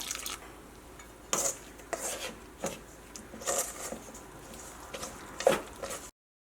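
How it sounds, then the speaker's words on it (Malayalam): Green gram flour being mixed with water in a bowl, heard as a series of separate scraping, rubbing strokes at an uneven pace, close by and moderately loud, then falling silent. "ഇനി നമ്മൾ ഇതിലേക്ക് വെള്ളം ചേർത്തിട്ട് ഇത് മിക്സ് ചെയ്യാൻ വേണ്ടിയിട്ട് പോവാണ്."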